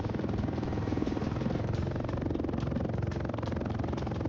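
A helicopter flies in the Roblox game War Tycoon, a steady, dense rotor and engine drone that stays loud and even throughout with no gaps.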